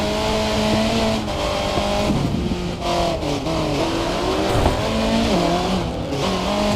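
A race car in a racing video game speeds through a corner, its engine droning steadily with shifting pitch and occasional tire squeal, loud and continuous with no talking.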